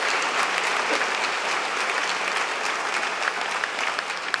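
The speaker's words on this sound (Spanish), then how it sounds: "Un aplauso ahora para Nuestra Señora." Congregation applauding during a Sunday Catholic mass, dense sustained clapping from a large crowd filling the whole stretch at a strong, even level.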